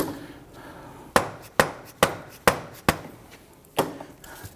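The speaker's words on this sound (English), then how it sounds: "Now we're going to continue to use our rubber mallet. And we're tapping this in to set the axle further in." A rubber mallet strikes a CV axle on a 2006-2014 Honda Ridgeline 3.5L V6, seating it into place with six sharp, close taps at uneven intervals over faint background noise.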